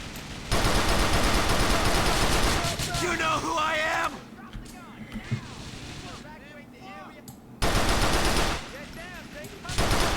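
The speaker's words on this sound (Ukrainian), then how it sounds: "Та харе палити по мені." Automatic gunfire rattles loudly in GTA: The Lost and Damned, long bursts aimed at the player that break off, then resume, with someone talking during the pauses.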